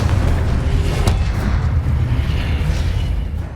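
A Confringo fire-blast spell explodes in the Hogwarts Legacy video game, giving a loud, sustained rumbling boom that fills the whole moment and tails off slightly at the end.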